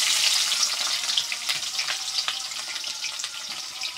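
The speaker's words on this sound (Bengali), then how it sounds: "বন্ধুরা এখন দিয়ে দেব পেঁয়াজ কুচি।" Chopped onion goes into hot oil with bay leaves, cinnamon, cardamom and cloves in a pan, giving a bright crackling sizzle that is loud at first and then settles slightly.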